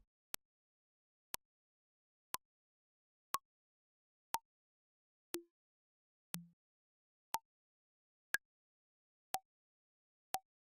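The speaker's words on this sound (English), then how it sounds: "Now if you EQ an impulse, you can hear very clearly the resonance." Impulse clicks processed with EQ, some leaving a short ringing resonance: a series of single, faint, sharp ticks evenly spaced about once a second in near silence, a couple carrying a brief tonal ring.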